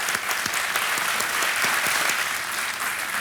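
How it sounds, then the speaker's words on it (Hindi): A studio audience at a TV quiz show gives steady, dense applause for contestant Neela, a full, continuous wash of clapping from many hands with no talk over it. "और एक बार जोरदार तालियां नीला जी के लिए।"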